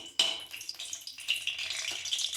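Whole cloves, black pepper and cinnamon sizzle in hot oil in a kadhai over a medium flame, a steady close crackle with a sharp burst at the start and small pops throughout.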